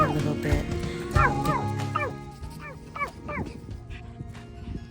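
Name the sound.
dog barking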